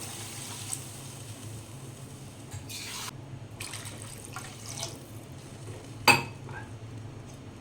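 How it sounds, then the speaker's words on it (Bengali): Water poured into a pan of fried cumin while cooking a mourola fish curry: short splashing, pouring bursts come and go, followed by one sharp metallic clink of a utensil against the pan. "এর মধ্যে দিয়ে দিচ্ছি পরিমাণ মতো জল"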